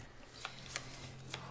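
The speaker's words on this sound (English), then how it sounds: "Meanwhile, I'll shuffle this." A deck of game cards for the cooperative card game Aeon's End Legacy being shuffled, a few soft riffling bursts close by over quiet room noise, with faint talk in the background.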